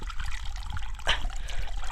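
A small stream of water running down from the hills trickles in a forest, a close, steady bubbling flow over a low rumbling background, with no voices.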